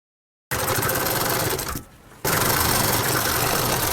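A sewing machine stitches through fabric over a paper strip with a loud, close, steady mechanical whir that pauses briefly mid-run and then resumes at full speed.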